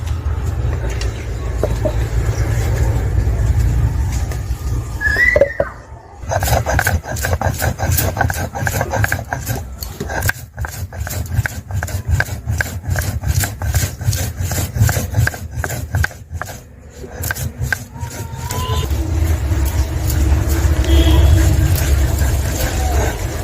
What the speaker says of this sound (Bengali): এবার ভেজে রাখা মশলাটা আমি বেটে নেব